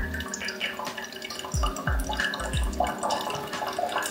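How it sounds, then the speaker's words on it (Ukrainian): Hot water is poured out of a coffee filter bowl, a close trickle and splash with a few distinct falling gurgles and drips, moderately quiet, with no talk. "Тепер ми цю воду виливаємо."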